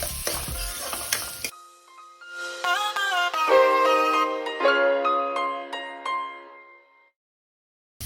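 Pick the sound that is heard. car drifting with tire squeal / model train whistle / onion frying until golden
onion frying until golden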